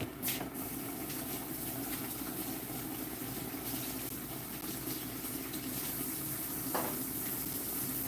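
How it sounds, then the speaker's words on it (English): A kitchen tap runs steadily while someone washes their hands, making a continuous close hiss of flowing water with a few faint clinks and bumps and no talk. "Let me quickly wash my hands"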